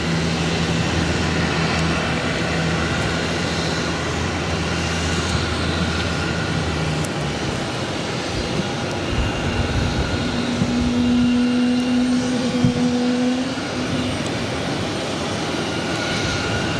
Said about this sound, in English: Taking off to San Francisco on the A321